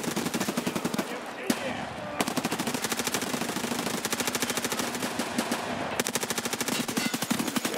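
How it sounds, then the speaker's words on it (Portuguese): Rapid automatic gunfire from a video game, a sustained, loud, dense stream of shots with brief breaks near the start and toward the end. "atirei no amiguinho ali, velho"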